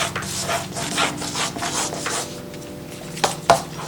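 A handheld vegetable sharpener shaves vegetables for a salad, giving continuous close rubbing and scraping strokes in an even rhythm, followed by a couple of sharp clicks near the end.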